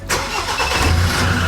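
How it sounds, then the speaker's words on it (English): A car engine cranks and catches right after a new ignition install, then settles into a steady, loud, close idle with no talking. "the car started obviously"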